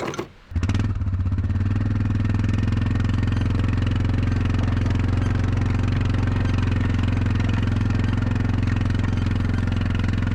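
An ATV engine idling steadily and loudly close by, a low, even chug that holds for about ten seconds after a brief rev at the start.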